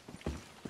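Faint horse hoofbeats from a video game, a few soft, irregular clops under background noise, with no talk.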